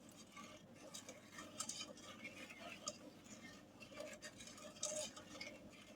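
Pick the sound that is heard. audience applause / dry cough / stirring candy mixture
stirring candy mixture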